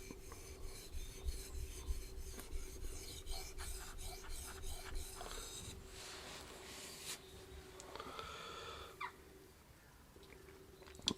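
A Schrade Frontier SCHF 42D knife is sharpened with steady, quiet rasping strokes of the blade across a stone, repeated rhythmically over several seconds with occasional longer scraping passes.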